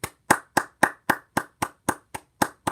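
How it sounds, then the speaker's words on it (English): A single person clapping about ten times in a steady, even rhythm, each clap crisp and close, with silence between the claps. "Let's get a round of applause for Sir Gideon."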